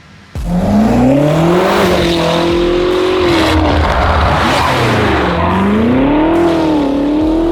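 A BMW X5 SUV engine revs up and down in rising and falling sweeps, a loud throaty exhaust note close by, alone without talk.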